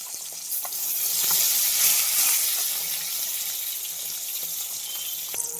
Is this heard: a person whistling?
no